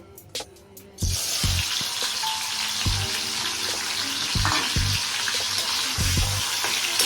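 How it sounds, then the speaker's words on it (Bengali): Paneer frying in hot oil, a loud steady sizzle that jumps in abruptly after a quiet second and then holds, with occasional clinks and taps of a utensil in the pan. "এখন আমি পনিরগুলো ভাজবো।"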